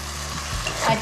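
Eggplant being stirred and mixed in a hot pan for Bengali begun posto, a brief close scrape and sizzle lasting about a second.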